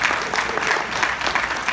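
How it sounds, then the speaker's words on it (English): A brief, lively burst of audience clapping fills a convention panel room, steady and close for under two seconds. "A round of applause for you."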